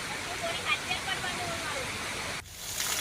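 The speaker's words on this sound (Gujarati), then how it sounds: "અરવલ્લીમાં સતત વરસાદ નોંધાઈ રહ્યો છે, જેના કારણે અરવલ્લીમાં ઘણા ધોધ સક્રિય થયા છે" Monsoon waterfalls in the Aravalli hills pour with a steady broadband rush of falling water, continuous and fairly close, dropping briefly near the end before the roar resumes.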